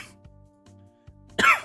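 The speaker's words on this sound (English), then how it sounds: "Forgive my coughing" A single harsh cough bursts out near the mic after a stretch of low background hum and faint tones, followed by a short rough tail.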